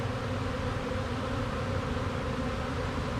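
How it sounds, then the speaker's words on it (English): Nurse honey bees packed into a cell starter box, a dense steady buzz close up with a soft rustling hiss, no voices. "You can see it bubbling over with bees"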